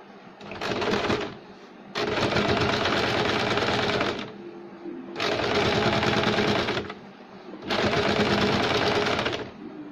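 A sewing machine stitches a sleeve seam in four loud, close bursts of rapid even whirring, with short silent pauses between runs.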